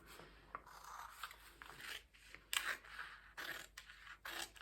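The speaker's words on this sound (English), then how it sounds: "I'm going to use my bigger scissors for this cut." Larger scissors snip and slide through paper close by, in a series of crisp cuts with faint rustling between them, quiet overall.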